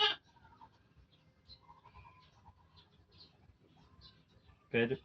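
A bloated goat gives a couple of short, strained bleats, one at the very start and one near the end, faint and close, with quiet murmuring talk and soft clicks in between.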